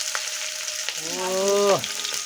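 Onion and chilli sizzle in hot oil for a Bengali-style chowmein, a close, steady frying hiss with a brief voice heard over it.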